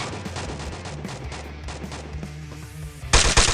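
Gunfire in the mobile battle game Free Fire crackles in rapid repeated bursts over game sounds, ending with a louder close burst of shots.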